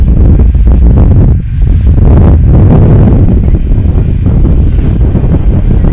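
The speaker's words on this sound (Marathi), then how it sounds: "ह्या स्पीडनी बोट धावते आपली. चांगली धावते 25च्या इंजिनला तरी पण." A 12-seater motorboat with a 25 hp engine speeds along the Konkan coast at Shrivardhan, a steady loud roar of engine, hull slap and water spray mixed with heavy wind buffeting the microphone throughout.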